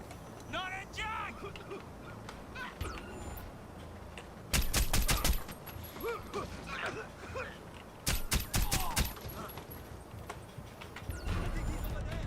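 Bursts of rapid automatic gunfire ring out in a video game, two dense volleys amid scattered shots, loud and close, mixed with other game sounds and a talking voice.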